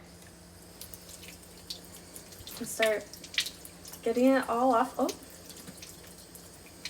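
Water runs gently over an egg being rinsed, a faint, steady trickle under a person talking.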